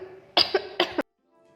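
Two sharp, close coughs from a person in a village, the second following about half a second after the first, then silence.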